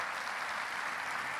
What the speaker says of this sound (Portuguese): Aplaude a Jesus aí, por gentileza.